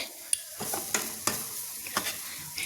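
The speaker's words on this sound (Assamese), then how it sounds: "এতিয়া মই ইয়াৰ ৰুকি লোৱা নাৰিকলখিনিও ধুনিয়াকে ভাজি লম দেখিছেনে লাহে লাহে লৰাই আছো" Grated coconut roasting in a dry pan for coconut laddu, stirred slowly, giving a faint continuous hiss broken by several sharp scraping clicks of the spoon against the pan.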